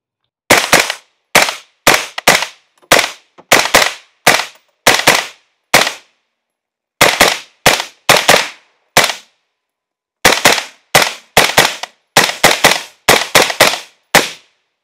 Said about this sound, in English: Let's put a few rounds through it.